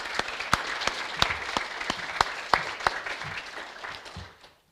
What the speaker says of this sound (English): So a round of applause please for our support staff.